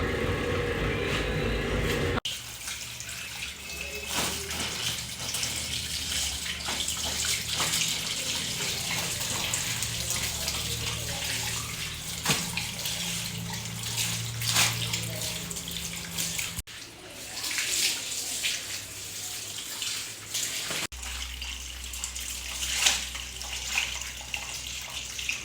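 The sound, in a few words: water running while washing clothes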